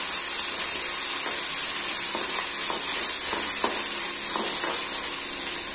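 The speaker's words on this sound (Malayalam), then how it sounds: "അതിനുശേഷം ഇതെല്ലാം കൂടെ നല്ലപോലെ ഒന്ന് ഇളക്കി കൊടുക്കാം." A spiced garlic rasam mixture is stirred in a pan over a constant bright hiss, with soft repeated scrapes and knocks from the spoon coming at a slow, regular pace.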